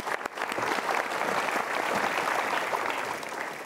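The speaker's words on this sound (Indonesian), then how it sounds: "Berikan tepuk tangan sekali lagi." A studio audience at an Indonesian talk show claps together in a full, continuous burst of applause, loud and even from start to finish, with no speech over it.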